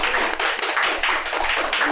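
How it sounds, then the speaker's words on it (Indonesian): Applause for Kak Nadir Bajamal, head of HIPMI Central Sulawesi, at a studio broadcast: a short burst of quick, crisp hand claps from a small group, close and brisk, with no speech on top. "Tepuk tangan dulu dong."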